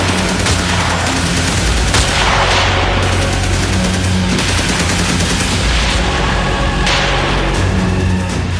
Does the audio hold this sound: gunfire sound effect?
yes